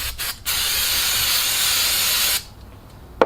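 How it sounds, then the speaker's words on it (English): A sustained hiss of aerosol cleaner sprayed onto a metal part, lasting a couple of seconds, preceded by two short bursts, then quiet with a small click at the end. "Spray it down"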